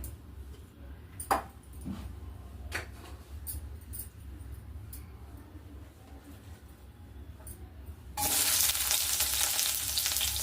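Onions hit oil in a pan for an Ugadi kalu gojju. Quiet handling and a few soft knocks come first, then an abrupt, loud hiss of frying rises near the end and keeps going.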